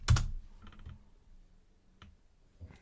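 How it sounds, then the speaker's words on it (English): A few scattered keystrokes on a computer keyboard as a password is entered, soft clicks with pauses between them, close and quiet with no talking. "type in our password."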